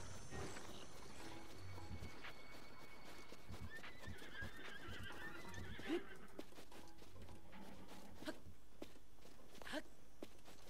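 Horses in The Legend of Zelda Breath of the Wild neigh and whinny amid scattered hoofbeats and steps, set against a constant low outdoor game ambience, moderately distant and without talk.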